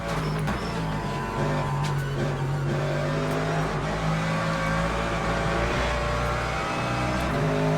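A Porsche race car in Le Mans Ultimate, a racing video game, roars at high revs. The engine tone rises and falls through gear changes with continuous loud engine noise, and no talking is heard.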